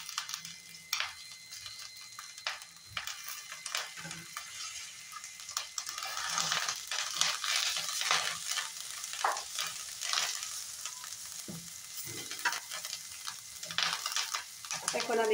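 Curry leaves sizzle and crackle steadily in hot salted oil for a savory snack mix, with occasional stirring clinks and bursts of popping, moderately close and free of talk.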